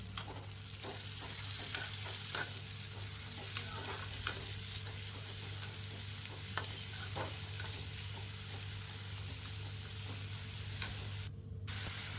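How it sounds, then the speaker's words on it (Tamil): Onions and ripe tomatoes sauté in a pan for bitter gourd thokku, a soft continuous sizzle with occasional spoon clicks and scrapes against the pan, steady and fairly quiet under a low background hum. "2 மீடியம் சைஸ் பழுத்த தக்காளி சேர்த்துருக்கேன். அதையும் சேர்த்து நல்லா வதக்கிக்குங்க."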